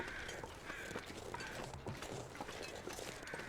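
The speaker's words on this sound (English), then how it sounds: "Where, crows? Where? I hear you." Crows caw overhead in The Long Dark survival game, their calls sitting over a steady, dense wash of in-game ambience with no speech.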